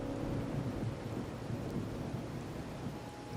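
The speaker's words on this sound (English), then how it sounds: "Here we stand, united by the rain" Rain and thunder in the video game Wuthering Waves: a steady, faint downpour with a low, continuous rumble throughout, no voices.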